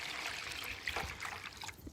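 Warm water is poured into a big bowl, a soft steady trickle and splash, fairly quiet and close, with no talking.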